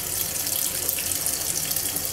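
A Midea washing machine filling with water makes a steady, close, rushing flow of water with no breaks and no voices.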